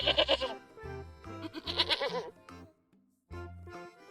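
A goat sound effect for a children's storybook bleats in several wavering, nasal calls close up, with short pauses and a brief low tone between them.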